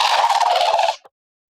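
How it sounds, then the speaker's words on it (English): A crane call serving as the top layer of a designed roar for a big bat creature, a loud, steady honking cry held for about a second before cutting off, with a faint short echo after it. "So instead, I found a crane. That's what this top layer is."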